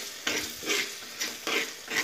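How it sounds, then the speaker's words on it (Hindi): Spatula strokes mix pav bhaji on a hot iron tawa, with a steady sizzle and close, rhythmic scraping bursts roughly every half second. "हमारी भाजी को हम मिक्स करके"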